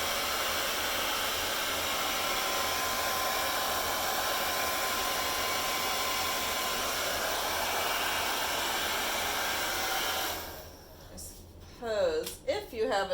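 A dryer blows a steady loud rush of air over a fluid paint pour for about ten seconds, then cuts off as a voice begins talking.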